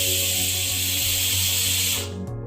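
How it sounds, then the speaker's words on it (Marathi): A pressure cooker of dal on a high gas flame letting off its whistle, a loud, close, continuous hissing jet of steam for about two seconds before it abruptly cuts off. "तर कुकरची 1 शिट्टी झालेली आहे."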